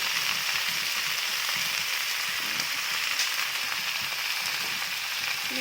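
Vegetables hit a pan of lightly fried prawns, setting off a steady, close sizzle that fills the kitchen without pause.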